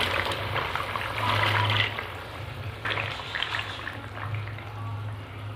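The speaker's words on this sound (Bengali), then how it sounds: "ঝোলটা আমার ফুটে উঠেছে" Bengali fish curry broth bubbling at a boil in a pot, a steady close gurgling and simmering texture running throughout with slight swells, no voices.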